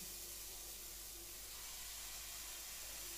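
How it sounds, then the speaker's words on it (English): Pancake batter sizzles in a hot pan, a soft, steady hiss that runs without a break and stays fairly quiet. "you can hear the sizzling, but it's not quite as loud this time"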